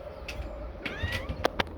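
A few short cat meows, close and fairly quiet, with a rising, sliding pitch, over low background rumble.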